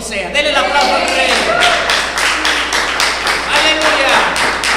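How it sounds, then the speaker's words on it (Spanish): Applause from a church congregation during a sermon: a loud, steady stretch of clapping from a crowd, with voices and cheering mixed in and rising over it at times. "Denle el aplauso al Rey."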